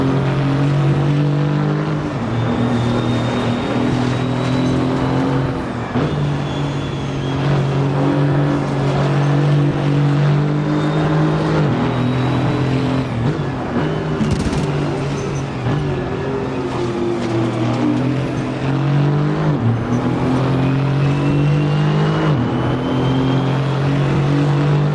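A sim-racing race car engine drones loudly and steadily throughout, rising and falling in pitch with gear changes at a Nürburgring multiclass event, with other cars audible close by.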